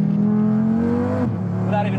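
An Audi five-cylinder street car accelerates hard, its loud, close engine note climbing steadily before a sudden drop as it shifts gear, then pulling again.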